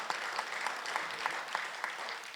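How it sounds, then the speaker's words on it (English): An audience at an evening community session on economic development and regional housing claps for two panelists, producing moderate, steady applause with individual claps standing out at regular intervals and no talking over it. "let's give these two a round of applause for all their great work."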